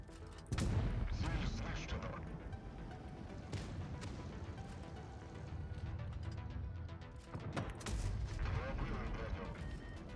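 Heavy booming tank cannon shots in World of Tanks Blitz, one near the start and another later, each followed by a long rumbling roar under a dense, noisy soundscape.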